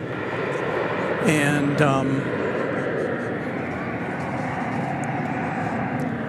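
Jet aircraft rumble at Dallas Fort Worth airport at night, a broad steady roar with a swelling pass, while a voice briefly speaks over it.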